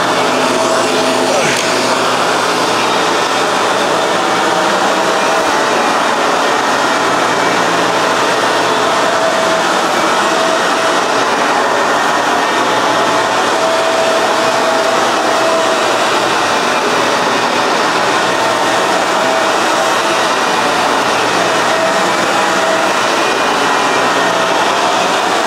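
Shark vacuum cleaner running during an anti-tangle test, a constant loud broadband roar with a steady motor whine that holds unchanged throughout, close to the microphone.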